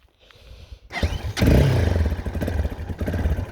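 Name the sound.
Viper V250L motorcycle engine starting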